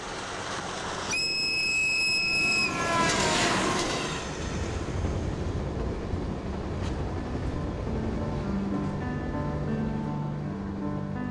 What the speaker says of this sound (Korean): 한 량짜리 새벽 기차를 타고 가보기로 했습니다.